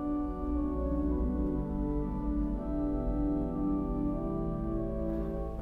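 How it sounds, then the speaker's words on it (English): An Austin pipe organ with five manuals sounds its Gamshorn stop, sustained soft chords holding steady and full with a reedy, tapered tone, unaccompanied and close. "Let's try it with the Gamshorn."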